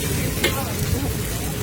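Spiced food sizzles steadily in hot oil in a pan, a close, dense crackle with a brief stirring scrape.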